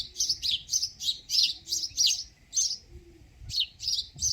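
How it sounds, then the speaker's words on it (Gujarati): Small birds chirp in bright, quick bursts of sharp tweets near neem trees on a quiet early morning, with several calls repeating in a lively rhythm over faint low background noise. "પંખીનો અવાજ સાંભળવાની એવી મજા આવે"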